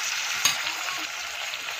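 Onion and potato curry with ginger-garlic paste, curry leaves, tomato, turmeric, red chilli and coriander powder fries in a pan: a brief, even, close hissing sizzle with a single light click near the start.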